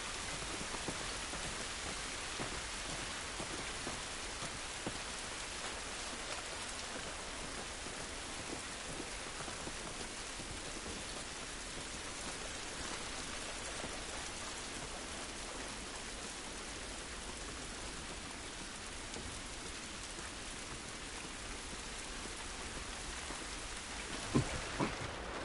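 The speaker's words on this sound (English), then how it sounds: "It's raining, but it wasn't good" Steady, dense rain pours down outdoors in The Last of Us video game, a constant hiss that fills the whole stretch with no voices and a couple of faint knocks near the end.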